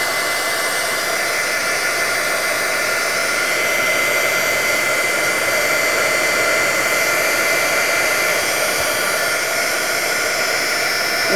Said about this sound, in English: I'm going to pick up my heat tool. Be noisy here for a second. I'm going to dry this.